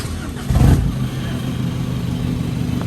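An Isuzu X-Series Speed pickup with a modified tip-style exhaust starts up, with a brief louder surge before it settles into a steady, loud, close rumble. No one talks.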